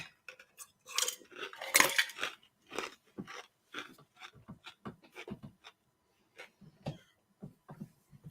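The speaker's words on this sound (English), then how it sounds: "there's a lot of people out there who hate the sound of chewing ice, and I do that" Ice is chewed close to the mic, with sharp irregular crunches and bites in bursts separated by brief quiet gaps, alone without talk.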